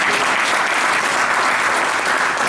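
Loud, steady audience applause at an event marking the FIFA Women's World Cup Trophy visit to Jamaica, dense clapping close up with no pauses and a faint crowd murmur beneath.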